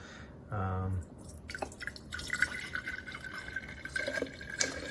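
Reverse osmosis water pours briefly into an espresso machine's reservoir, followed by light trickling and drips, with some handling noise around it.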